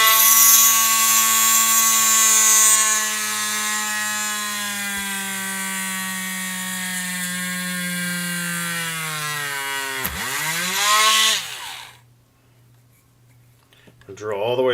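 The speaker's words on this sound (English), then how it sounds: "Let's go ahead and drill in here." Power drill boring through hard plastic: a loud, steady whine that slowly drops in pitch under load, then dips and surges back before cutting off, followed by near silence and a brief final burst.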